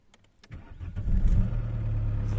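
An Opel Vectra C with the Y22DTR diesel and automatic gearbox cranks briefly, catches and settles into a steady, close-up idle that holds to the end.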